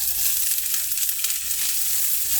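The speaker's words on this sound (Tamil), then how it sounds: "வெங்காயம் நல்லா வணங்குற வரைக்கும் வணக்கி விட்டுட்டே இருங்க" Onions sauté in hot oil for a chicken chinthamani dish, a steady close sizzle and crackle of frying with faint stirring, and no voices.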